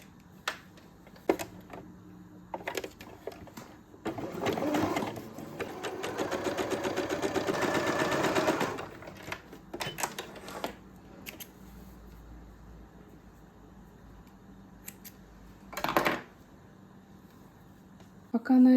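A sewing machine runs one sustained burst of stitching along dress seams, set between quieter handling clicks and rustles with short bursts of noise.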